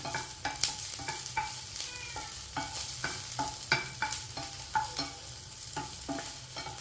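Garlic cloves fry in a pan for curry leaf garlic powder, with a sizzle running underneath and a rapid series of sharp, close spatula scrapes and knocks as they are stirred.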